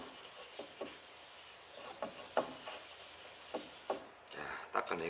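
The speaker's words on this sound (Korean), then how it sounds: "다시 깨끗한 부분으로 돌려가지고 이렇게 한 후에 나무 가루를 닦아내셔야겠죠" A cloth wipes fine wood dust off a wooden cutting board in quiet, rhythmic rubbing strokes with soft scuffs, close and faint.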